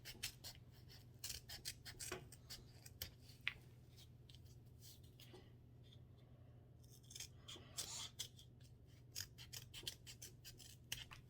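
Scissors snipping a paper triangle smaller, giving quiet, crisp cuts in irregular bursts over a steady low hum, with a brief pause midway before more snips follow.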